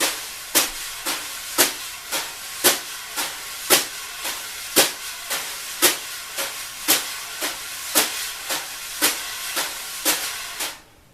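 Brushes swish across a snare in a steady shuffling pattern, with regular louder accented strokes standing out from the soft continuous sweep.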